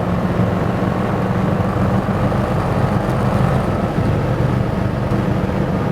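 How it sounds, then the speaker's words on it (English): Classic factory GT car with a three-speed gearbox accelerating, a continuous loud engine rumble with steady road and wind noise, no speech. "She has no problem accelerating."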